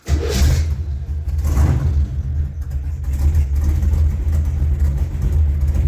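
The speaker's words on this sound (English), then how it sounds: "now fire the car back up, let it warm up" A carbureted car engine being converted to FiTech fuel injection starts and idles with a low, steady rumble, with occasional revs while it warms up, close and continuous.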